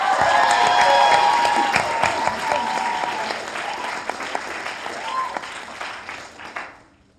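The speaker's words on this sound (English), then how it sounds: "Give her a huge round of applause for Shannon." A large audience applauds a contestant at a FameLab science-communication final, loud sustained clapping with some cheering that gradually thins and fades out at the end.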